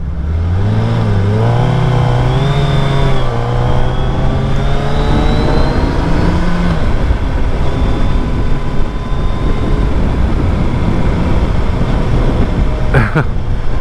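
A 2022 Suzuki Hayabusa sport motorcycle engine revs hard, its pitch rising and falling through several sweeps, loud and close, before settling into a steady drone.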